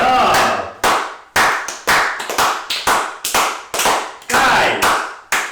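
A group of people clap in short, sharp bursts of applause, several rounds in quick succession with abrupt stops between them, loud and close, with cheering voices mixed in.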